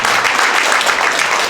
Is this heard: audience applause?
yes